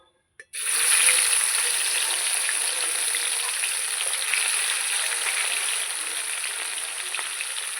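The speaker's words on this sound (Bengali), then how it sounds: "লাল লাল করে ভেজে নিয়েছি বাদ বাকি মাছগুলো দিয়ে দেবো" Pieces of katla fish fry in hot oil, a steady close sizzle beginning abruptly after a short silence and continuing bright and even, with faint crackles and no talking.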